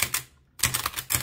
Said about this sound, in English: typing on a Blickensderfer